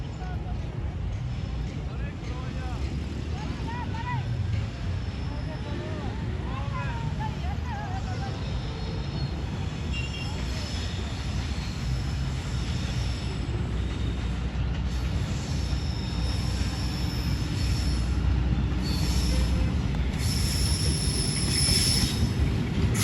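A train pulls into Shahdara Bagh Junction on Pakistan Railways with a continuous heavy rolling rumble and high wheel squeals, growing slightly louder as it draws in.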